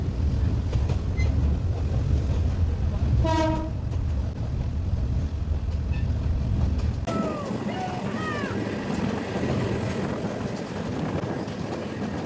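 The Probal Express passenger train rolling through a Chittagong slum, a loud continuous rumble and rattle heard from on board, with a brief horn-like tone and squealing wheel sounds over wind noise.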